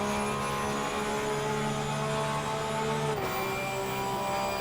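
Porsche 911 GT3 R racing engine in Assetto Corsa Competizione at Monza, a loud continuous whining drone from a 2020 car that holds steady, then shifts pitch with a short dip as the throttle comes back on.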